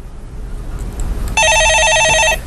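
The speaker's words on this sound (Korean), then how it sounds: "예, 전화 받아보겠습니다." A telephone rings with an incoming call: a loud, bright electronic trill about a second long cuts in over a quieter room hum and then stops.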